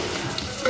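Panch phoron and onion hit hot oil with a short burst of crackling sizzle, close and steady, swelling slightly toward the end.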